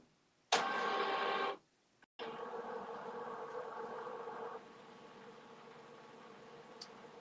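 Home embroidery machine stitching out a cat patch, a steady mechanical buzzing whir that starts loud, pauses briefly, then resumes at a slightly lower, even level.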